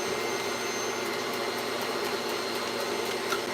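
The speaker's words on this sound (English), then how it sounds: "I'm gonna use a little vacuum now to kind of vacuum this stuff up." A small Dyson V11 cordless vacuum cleaner whirs steadily at close range with a constant high-pitched motor whine and airflow hiss, running alone without talk.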